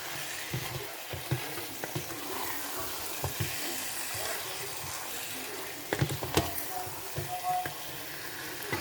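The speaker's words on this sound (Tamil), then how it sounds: "அந்த ரா ஸ்மெல் போகிற வரைக்கும் நல்லா நீங்கள் அதை ஃப்ரை பண்ணிவிடுங்க." Mutton coated in masala fries gently in a pan for biryani, a soft steady sizzle with occasional stirring clinks and scrapes and a brief louder clatter midway, no talking.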